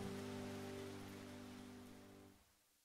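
Compressed rain ambience, pushed louder, forms a steady dense hiss with low sustained hum beneath it, then thins and fades out toward the end.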